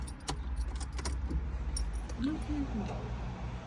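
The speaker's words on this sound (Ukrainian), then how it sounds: "Включаємо зажигання." Ignition key turning in a Ford Focus 1.6, a short jangle of keys and clicks close by, with low cabin hum and a voice talking over it.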